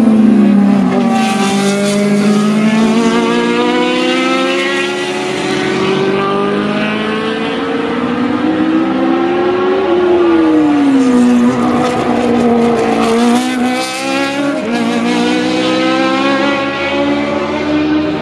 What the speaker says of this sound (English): brought along some fantastic Formula One cars from 1971 to 1985, and it's one of the best sounds I've ever heard